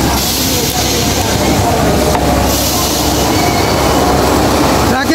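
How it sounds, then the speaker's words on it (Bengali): A ride train at the Fantasy Kingdom amusement park in Dhaka pulls in with a loud, close, continuous rumble and a faint wheel squeal, and a voice is heard over it. "ট্রেন চলে আসছে।"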